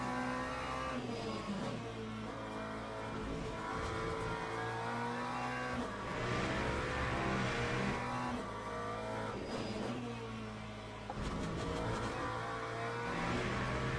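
Race car engines in the Le Mans Ultimate racing game, BMW and Ferrari cars nearby, a continuous loud engine roar rising and falling through gear changes and revs, with brief tyre squeal.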